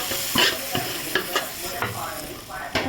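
Fish curry sizzles and boils in a hot pan while a utensil stirs and scrapes in repeated short strokes, close and moderately loud.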